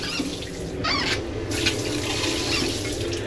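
Water runs steadily from a bathroom tap in a cruise ship balcony cabin, close and moderately loud, with a brief squeak of the handle near the start.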